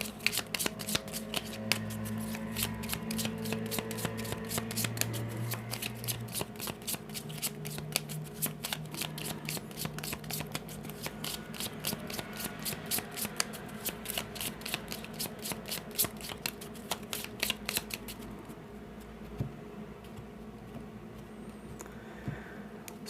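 A Cigano (gypsy) tarot deck is handled and shuffled, with steady riffling and soft card slaps running continuously and close by, ending in a brief flurry of quick flicks.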